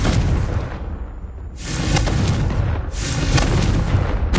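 Confringo fire spell blasts in Hogwarts Legacy, heavy booming explosions with roaring bursts that swell, fade and return, loud and close with no talking.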